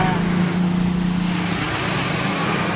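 A new motorbike engine running close by, a steady loud rumbling drone with a low hum that eases off after about a second and a half.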